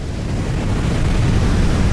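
Huge ocean waves at the Cape of Storms at Africa's southern tip during cyclone season, a loud, continuous roar of surf mixed with wind buffeting the microphone.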